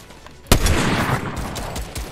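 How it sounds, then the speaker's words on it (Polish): Fortnite gunfire opens with a sharp, close shot and then a rattling stream of rapid follow-up shots and impacts, loud and dense. No one talks over it. "Ej, strzelają!"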